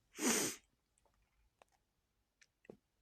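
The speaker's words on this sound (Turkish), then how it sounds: "Hay hapşıracağım ya." A single close, sharp sneeze bursts out at the start, followed by quiet with a few faint clicks and sniffs.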